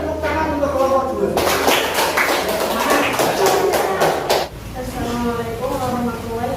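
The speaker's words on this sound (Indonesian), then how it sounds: "Kita beri tepuk tangan untuk kelompok 2." A classroom claps for the second student group in a burst of quick, close hand claps lasting about three seconds, bracketed by talking before and after.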